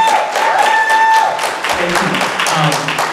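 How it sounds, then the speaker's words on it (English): An audience at a citizen training session on public records gives a loud round of applause, a continuous crackle of many hands with a voice talking over it. "Big round of applause for Rob joining us today."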